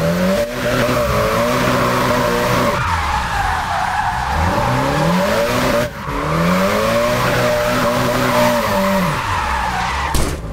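A drifting video game car screams at maximum revs with its gears set very long, tires squealing steadily as the engine climbs, bounces off the limiter and sweeps back down in two loud repeated cycles.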